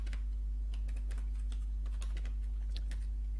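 Typing on a computer keyboard, a quick irregular run of light key clicks close by over a constant low electrical hum.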